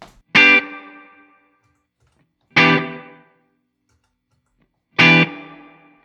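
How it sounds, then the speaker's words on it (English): Guitar chords run through a spring reverb pedal: three separate struck chords, each ringing out with a bright, slightly boingy decaying tail, spaced a couple of seconds apart with silence between. "you kind of hear the spring bouncing at the end"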